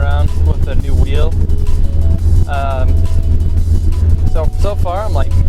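A Nissan S13 drift car with an SR20DET engine cruises with a constant low engine drone. A person talks over it for the whole stretch.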